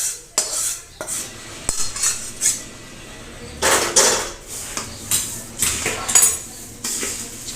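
Puffed rice chivda being mixed with oil in a metal plate gives repeated scraping and clinking of a metal spoon against the plate, irregular bursts of rattling stirs with short pauses, close and loud, without voices.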